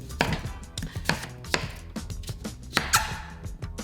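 A small cleaver chops a pumpkin into cubes on a board in sharp, repeated strikes at an uneven pace, close and loud, with no voices.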